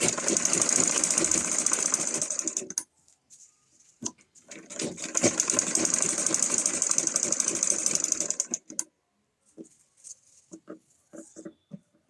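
Sewing machine stitching yellow and green satin fabric petals backed with foam, running in two long steady bursts with a pause between, then short stop-start stitches near the end.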